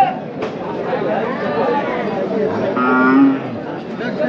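Cattle and calves low at a bustling bullock market in Chakan, with a clear moo rising near the end over a steady din of traders talking and bargaining close by.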